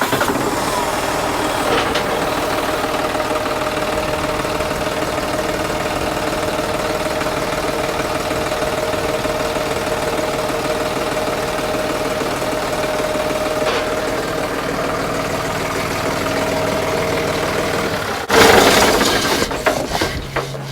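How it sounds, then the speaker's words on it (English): Farm tractor with a front loader cranked and left idling, a steady mechanical engine drone with rattling, ratchet-like ticks running throughout, then a louder clunky surge near the end. "We're going to just crank the tractor and raise the loader up out of the way."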